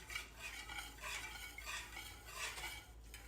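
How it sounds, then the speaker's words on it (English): Eggs and milk are whisked together in a bowl, giving faint, steady, repetitive stirring strokes with light clinks of utensil against the dish, with no voices. "Whisk together until fully combined."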